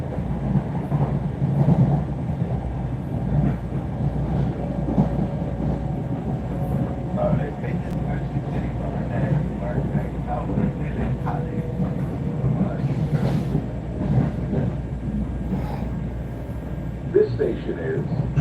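A subway train rides into Tremont station with a steady rumble and rattle of wheels on track throughout, plus faint tonal whines as it slows.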